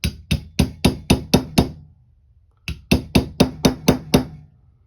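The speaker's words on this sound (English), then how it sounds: "just take this wooden dowel and I'm just going to give it some taps" Pistol part on a SIG Sauer P210 being tapped into place with a wooden dowel during reassembly: two sets of six or seven sharp, evenly spaced hard knocks, close and loud, separated by a brief pause.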